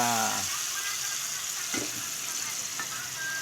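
Pork fat melts and sizzles in a hot wok for a mung bean dish, a steady, close, crackling fry that runs throughout, with a brief voice at the very start.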